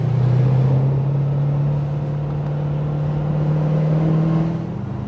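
A 1989 Aston Martin V8 Vantage Volante X-Pack with a 7.0-liter big-bore V8 drives along back roads, its engine holding a steady, loud, deep drone with a slight rise in pitch toward the end.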